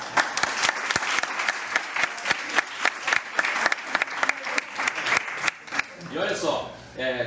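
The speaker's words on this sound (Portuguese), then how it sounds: "A salva de palmas para ela." Audience applause indoors, a moderate group clapping in quick, distinct claps that thin out and stop near the end before a voice begins speaking.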